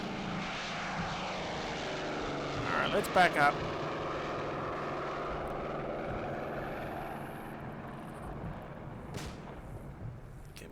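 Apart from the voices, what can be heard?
propeller aircraft flying overhead in video game Combat Mission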